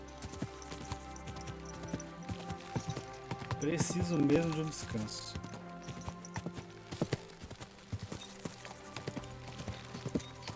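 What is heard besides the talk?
horse hooves trotting slowly in video game Kingdom Come Deliverance 2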